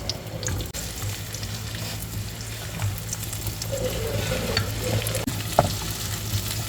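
Ginger and white onion sautéing in sesame oil in a pan, a steady close sizzle with occasional stirring scrapes throughout.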